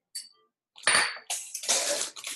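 Water is poured into a bowl for lemon filling mix, heard as several close splashing, trickling bursts separated by short pauses, with no talking.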